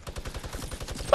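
A minigun in a video game fires a rapid, even stream of rounds for about a second, loud and close, ending in a harsher burst.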